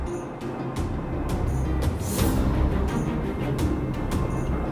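Steady broadband hiss like static from a Fragmentum monster in Honkai: Star Rail, loud and continuous, with a few brief sharper bursts over a low rumble.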